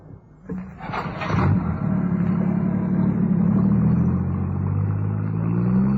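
A car engine in an audio drama, loud and continuous, builds from a brief clatter into a sustained low rumble as the car accelerates and turns toward the coast, with no voices over it.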